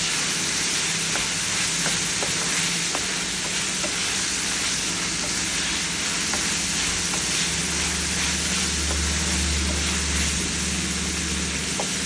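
Tomatoes cooking down in a pan for a flat bean curry, giving a steady, dense sizzle and crackle that stays level throughout with scattered small pops, alone without any voices.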